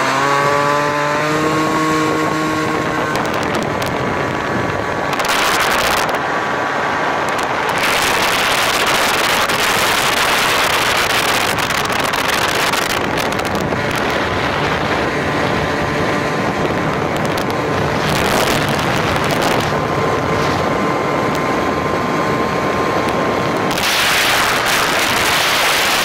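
A 96cc two-stroke scooter revs hard through a neighborhood toward top speed, its buzzing engine rising in pitch through the gears with brief drops between shifts, loud and close throughout.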